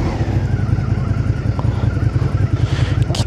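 A Suzuki SV650 motorcycle engine idles loudly and steadily up close at a fuel station, a low throbbing rumble with a brief clatter near the end before shutdown.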